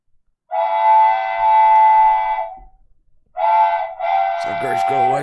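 A train whistle, as a departing train leaves a station, sounds a long loud tonal blast, then after a short pause two more blasts in quick succession.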